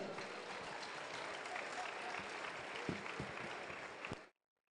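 Audience applause at a presidential launch ceremony for free tertiary education for persons with disabilities: a steady, even wash of crowd clapping that cuts off abruptly near the end.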